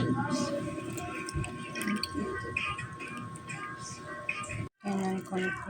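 A little water is splashed into a home-cooked pot of malunggay with garlic and sweet potato, with brief pouring and dripping sounds under a person talking throughout.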